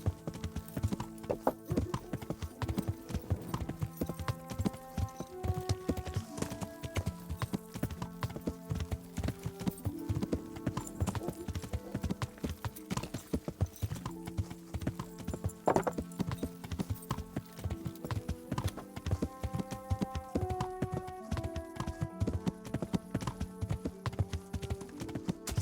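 Horse hooves clip-clop at a steady walking rhythm in the medieval video game Kingdom Come: Deliverance, continuous and fairly close, with a melodic music score playing underneath.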